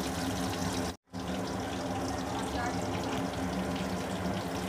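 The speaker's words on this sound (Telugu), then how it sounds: "ఈ రెండో వైపు కూడా బాగా వేయించుకుందాము." Chicken pakora fries in hot oil as the second side browns, giving a steady, dense sizzle close by that cuts out for a moment early on.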